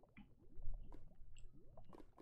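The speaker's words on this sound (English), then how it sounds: "avoid falling into that nice bubbling sound that we hear" Bubbling liquid deep in an abandoned mine in the Minecraft Ancient Warfare 2 mod, quiet wet squishing, gurgling pops in an uneven stream, faint and alone.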